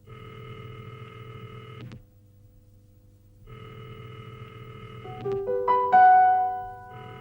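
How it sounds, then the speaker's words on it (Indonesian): Telephone in an Indonesian sitcom home or office scene, ringing in two clear electronic bursts separated by a short pause, followed by rising beeping tones as it is answered, with no one talking. "Telepon dari siapa, Mas?"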